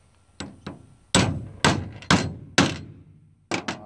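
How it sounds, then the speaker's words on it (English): A Lee Classic Loader is struck with a hammer to drive a 100-grain boat tail soft point bullet into a .243 Winchester cartridge case: about eight sharp, close knocks in an uneven rhythm, some quick doubles, each ringing briefly. "We're gonna drive the bullet home."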